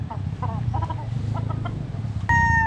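A young gamecock stag gives a run of short clucks and chirps over low background rumble, ending in a sharp steady tone.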